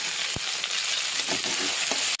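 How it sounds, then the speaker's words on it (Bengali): Potatoes and onions frying in a pan, a steady crackling sizzle with a few soft scraping stirs, close and fairly loud. "আলুর সাথে পেঁয়াজ কুচিগুলো দিয়ে দেবো, ভালো করে নাড়িয়ে চাড়িয়ে এর সাথে ভেজে নেবো"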